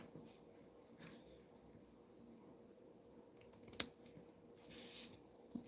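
Scissors snip quietly through a paper image being trimmed for a craft project, a few faint soft cuts spread over a hushed studio background, with one sharper click near the middle.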